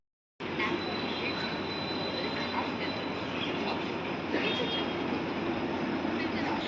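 A train rumbles past at close range, with a steady loud roar and rattle that starts abruptly and holds throughout, a faint whine riding on top.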